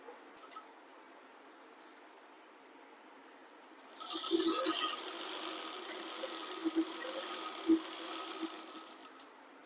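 A sewing machine stitches a child's frock with flutter sleeves, its steady motor whir starting a few seconds in after a quiet stretch and running with small bumps in level, close and moderately loud with no talk.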